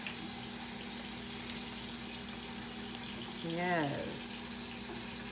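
Tap water runs in a steady, moderate hiss while a houseplant is watered indoors, with a low hum beneath and a brief squeaky, rising sound near the end as a voice says a single word.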